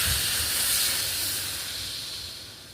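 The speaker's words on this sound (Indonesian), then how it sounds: "Ini bisa kita beri air untuk kuahnya." Water poured onto hot, fully cooked spice paste to make a broth sends up a loud, steady steam hiss that slowly fades, with no talking.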